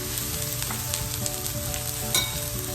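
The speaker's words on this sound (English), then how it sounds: "On this other side over here, I'm dropping my onions, my green peppers." Onions and green peppers sizzle steadily on a hot griddle for a Philly cheesesteak, a close, continuous frying hiss with faint scraping and no talk.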